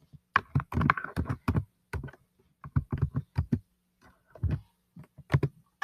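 Typing on a computer keyboard, with quick irregular clusters of sharp, close key clicks separated by short pauses and no other sound.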